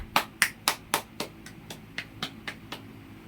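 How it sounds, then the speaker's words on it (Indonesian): Clapping in a primary school classroom for a student group: about eleven crisp, evenly spaced claps that fade gradually, with a quiet room behind them. "kita tepuk tangan dulu untuk kelompok 3"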